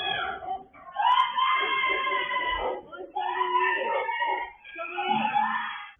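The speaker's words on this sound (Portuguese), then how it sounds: "Foram os gritos dessas crianças que a câmera registrou." Children scream in loud, sustained, frantic bursts inside a house where a woman was attacked, caught from a distance by a security camera with short breaks between cries.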